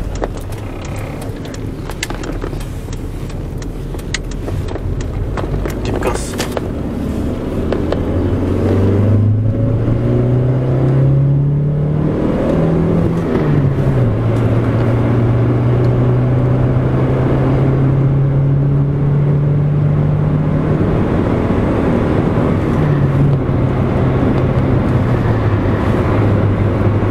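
A Hyundai Getz running on LPG accelerates hard, heard from inside the car. After a noisy start, the engine note climbs steadily through the gears, with brief dips at each shift, and stays loud and close.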